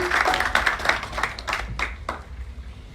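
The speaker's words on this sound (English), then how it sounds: "Round of applause for Caterina as well." An audience applauds at the official launch of the Institute of Fitness in Accra, Ghana: a steady, dense patter of many hands clapping that tapers off toward the end, with no talk over it.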